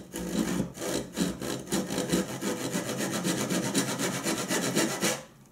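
A hand saw cuts wood at an angle in a miter box, with about twenty fast, even back-and-forth strokes close up, then the sawing stops.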